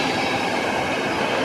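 Class 91 LNER express train running through Peterborough station without stopping, a loud continuous roar of wheels and rail noise close by, steady throughout with no voices.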